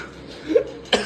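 Two short coughs close to the microphone, a softer one followed by a sharper, louder burst.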